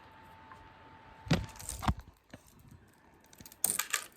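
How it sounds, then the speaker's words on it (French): A few sharp computer mouse clicks in a quiet room, close and distinct, with two or three clicks spaced apart over a few seconds. "Je vais cliquer."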